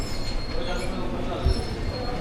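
Steady low rumble of a train at a station, with a constant mechanical hum and a faint high whine, plus a brief thump near the end.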